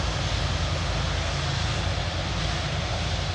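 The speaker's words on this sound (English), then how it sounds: "Virgin taxis for its departure for JFK." A Virgin airliner taxis out for departure to JFK at Manchester Airport, its engines putting out a constant loud roar with a low rumble and broad hiss that stays steady the whole time, with no voices.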